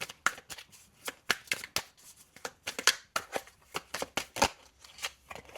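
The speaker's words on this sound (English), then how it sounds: "let's just pull 3 more cards and a crossing card" Tarot cards being shuffled and pulled, a close series of crisp riffling slaps and flicks in an uneven rhythm, quiet with no talking.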